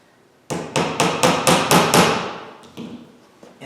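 Wooden dowels are hammered into a guitar body workpiece in a woodshop, giving a rapid run of about seven loud, sharp hammer blows followed by two lighter taps after a short pause.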